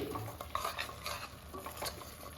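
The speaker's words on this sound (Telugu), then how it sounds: "మంచి స్మెల్ వచ్చేదాకా వేయించుకోవాలి. ఇలా ఫ్రై అవ్వాలండి." Onion paste with garam masala and green chillies fries in a pan for a raw-mango fish curry. A quiet sizzle sits under repeated scraping and tapping as a spoon stirs the mixture against the metal.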